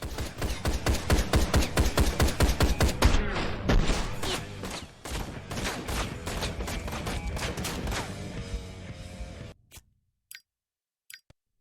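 Rapid rifle fire in the motorcycle action game Ride to Hell: Retribution hammers out in a dense, loud stream of shots for several seconds. It then thins and stops, leaving a few faint clicks near silence.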